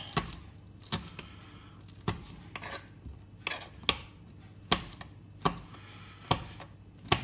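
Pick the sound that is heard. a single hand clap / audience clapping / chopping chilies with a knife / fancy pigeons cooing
chopping chilies with a knife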